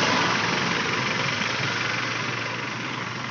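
A Sonalika Sikandar 60 RX tractor engine runs at full speed, a dense, loud, continuous rumbling roar that holds steady and fades slightly toward the end.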